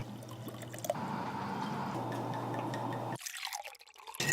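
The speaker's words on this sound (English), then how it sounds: "I like the sound of a bourbon being poured." Jim Beam bourbon pours steadily into a glass for about three seconds, a close, continuous liquid trickle that cuts off abruptly, followed by a few faint clinks.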